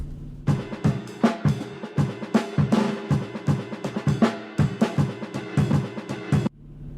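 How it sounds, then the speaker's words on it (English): Chopped drum break processed with clip distortion and low-end EQ, a dense, driving pattern of heavy kicks, crunchy snares and hats with stuttering edits, loud and compressed, ending on a quick chop. "And then with the effects and chopped, sounds like this."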